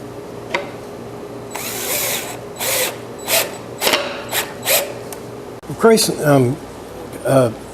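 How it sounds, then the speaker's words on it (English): A power driver sets large old-fashioned screws into a wooden kitchen chair under repair, with several short whirring bursts close by and someone speaking between and over them. "I'm putting these big old-timey screws back in."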